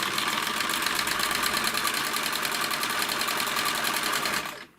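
A sewing machine runs steadily while stitching, with a rapid, even mechanical knocking throughout, close and loud, stopping abruptly near the end; the machine has a fault that makes it knock and break the thread.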